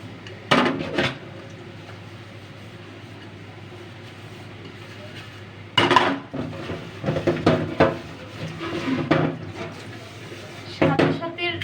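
Pots and pans that held onion, bitter gourd and shrimp are washed after cooking, with scattered clanks and knocks of metal cookware over a low running background and someone talking intermittently.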